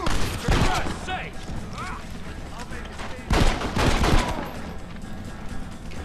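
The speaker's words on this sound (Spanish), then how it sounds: "La pistoleta esta mola la hostia, ¿eh? ¿Cómo dispara, chaval?" Pistol shots in the video game Red Dead Redemption: a sharp crack early on, then a cluster of louder shots a few seconds later, with talking in between.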